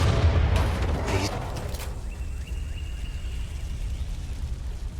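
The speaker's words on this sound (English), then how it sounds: "Heavens! It's an explosion!" A deep explosion in the video game Undawn, a heavy rumbling blast at the start that decays into a low lingering roar with faint mechanical ringing afterward.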